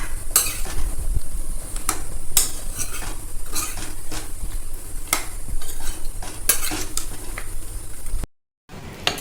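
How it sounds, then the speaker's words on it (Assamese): Meat and spices being stirred in a metal pot, with repeated sharp clinks and scrapes of a spoon against the sides over a low sizzle, close and loud, ending in a brief silence. "আকৌ ধুনীয়াকৈ গোটেই বস্তুখিনি ভালদৰে লৰাই দিম।"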